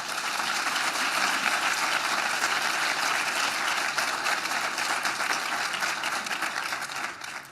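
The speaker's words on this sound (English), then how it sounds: "If I could have a huge round of applause for them." A seated audience at a legislative breakfast on mental health gives the legislators a sustained round of applause, dense and even throughout before tapering slightly at the end.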